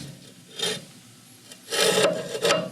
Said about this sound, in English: right where that screwdriver blade is hitting